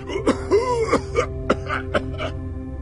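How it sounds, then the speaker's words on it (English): Several rough, throaty coughs and groans from a Minecraft: Story Mode character come in uneven bursts over a steady electronic hum, close and moderately loud. "your coughing is getting worse and worse"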